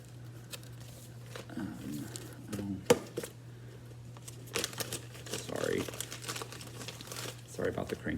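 Plastic packaging crinkles and rustles in close, irregular bursts while someone talks over it, with a steady low electrical hum underneath.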